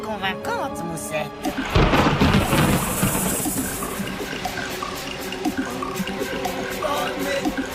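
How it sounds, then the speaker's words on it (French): A thunderstorm with a loud crack of thunder near the start, followed by steady rolling rumble and rain noise, with faint tonal music running underneath. "Elle a appelé la tempête!"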